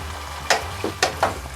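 Nacho ingredients sizzle softly in a pan while a utensil scrapes and stirs them in four quick strokes, faint and close, with no talking.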